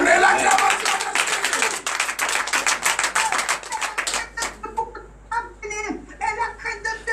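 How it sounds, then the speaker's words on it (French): A church congregation at a morning prayer service claps and acclaims in a dense, lively burst for about four seconds, then thins to scattered claps as voices rise over it. "Donnez l'acclamation."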